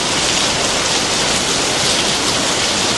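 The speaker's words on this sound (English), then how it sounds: "the rain and the thunder" Heavy rain pours down in a steady, dense hiss close by, unbroken across the whole stretch with no distinct thunderclap standing out.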